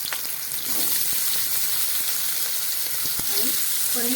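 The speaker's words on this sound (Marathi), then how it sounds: "काही तेल घालून घेणार आहे आणि त्यामध्ये आपलं जे पनीर आहे ते पनीर आपण या ठिकाणी काय करू थोडंसं फ्राय करून घेऊ" Paneer fries in oil in a kadhai with a steady, close sizzle and occasional crackles and stirring touches throughout.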